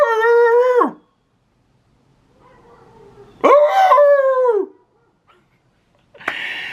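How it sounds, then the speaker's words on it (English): A neighbor's dog lets out three loud, drawn-out howling barks, each a rising, wavering cry that breaks off, separated by quiet pauses. "Do you hear this? My neighbor dog barking."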